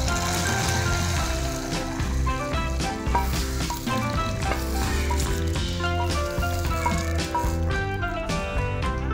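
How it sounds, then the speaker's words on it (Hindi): Garlic tempering hisses and crackles in hot oil as it is added to a pot of red lentil dal, a steady, close sizzle with bubbling and popping that continues throughout. "अब लहसुन वाला तड़का जो है वो हम इसके अंदर ऐड कर देंगे।"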